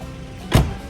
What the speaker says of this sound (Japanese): 高そうなドアの閉まり方をしますね。